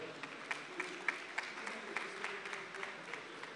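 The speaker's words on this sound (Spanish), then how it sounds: "Recibámoslo muy calurosamente con un aplauso." At a business pitch marathon event, an audience gives a faint, scattered round of applause to welcome a speaker, a few distinct claps punctuating a soft, thin wash.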